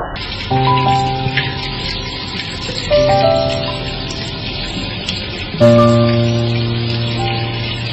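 Running water used to rinse the face, a steady splashing rush. A tonal chime or music rises over it three times.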